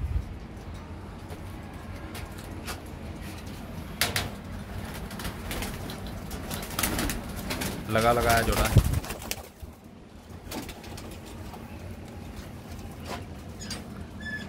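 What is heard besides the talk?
Kusri pigeons cooing and flapping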